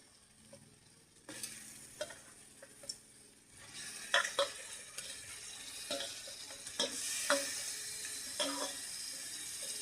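Chicken pieces going into hot oil with a cooked-down spice masala for a desi chicken curry, a steady sizzle with scraping stir strokes and clinks that grows louder midway.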